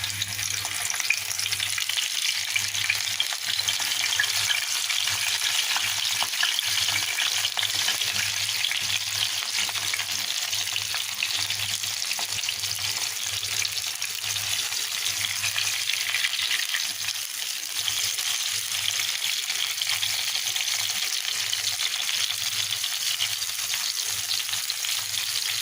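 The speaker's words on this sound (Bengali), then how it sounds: "প্যানে সরিষার তেল দিয়ে দিয়েছি, এখন মাছগুলোকে বাদামি করে করে ভেজে নেব।" Katla fish frying in mustard oil in a pan, giving a steady, dense sizzle that runs unbroken from start to finish with no talking.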